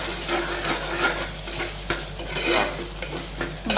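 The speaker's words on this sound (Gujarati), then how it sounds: "સરસ મજાનું મિક્સ કરી લઈએ" Spices being stirred into a jackfruit curry in a pan, with a steady scraping and sizzling texture, close and fairly loud, with a few sharper knocks of the spoon against the pan.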